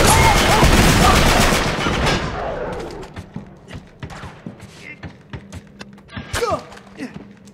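Uncharted 3 multiplayer gunfire: a loud dense burst of shots for the first two seconds, then trailing off into scattered single shots and thuds with quieter gaps, ending in a few sharp reports.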